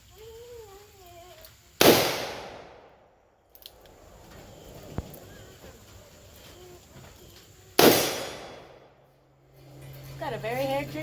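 A Ruger Alaskan revolver chambered in .454 Casull fires two very loud, close single shots several seconds apart, each blast trailing off into echo, with people talking quietly between shots.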